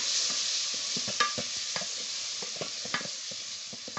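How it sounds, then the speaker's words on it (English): Tomatoes are stirred into a yellow bean stew in a pot, with a steady sizzle and repeated spoon scrapes and knocks at a brisk rhythm, close up and without talk. "So I'm adding in my tomatoes. I'm gonna give it a stir."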